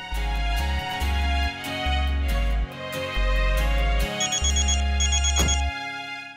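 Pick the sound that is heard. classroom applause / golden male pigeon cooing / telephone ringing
telephone ringing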